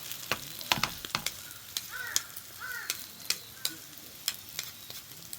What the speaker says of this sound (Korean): 양이 많을 것 같은데 맛있게 한번 볶아보겠습니다